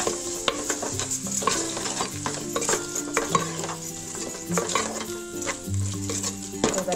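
Stuffed eggplant masala sizzles in a pan while a spoon stirs and scrapes it, giving repeated metallic clinks and scrapes over a continuous frying crackle, with no talk.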